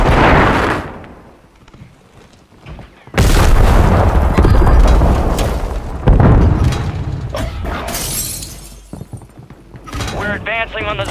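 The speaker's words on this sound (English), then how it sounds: "Throwing grenade!" A grenade blast in the video game Call of Duty Warzone 3, a loud booming explosion with crackling debris, set among other gunfire and blasts in a busy, dense battle mix.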